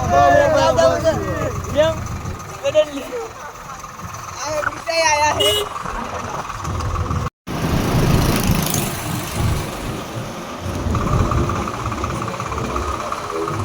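A tractor engine chugs steadily on a village ride, a mid-pitched running drone beneath loud, lively group chatter from the passengers.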